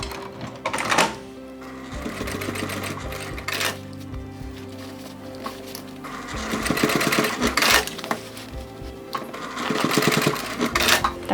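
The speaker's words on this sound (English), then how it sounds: "Just baste on the side, just to hold the seam allowance down." A sewing machine bastes the side seam of a crossbody bag in several runs of rapid, even stitching, close up and loud, with short pauses and handling clatter between bursts.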